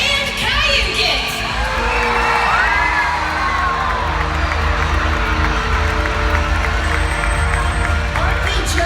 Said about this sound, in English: let me hear you cheer for Tuar and Kayukit!